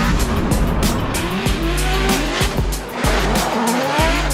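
Drifting car on an enclosed street course, engine roaring loud and close with repeated sharp tire squeals and skidding as it slides through corners, sustained throughout with no talk.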